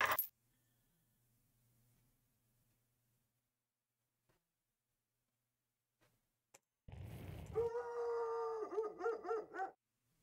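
A dog howling in the Full Throttle Remastered video game: a sustained, wavering howl that follows a few sharp knocks and clicks after a mostly quiet opening, loud and close, with no talk.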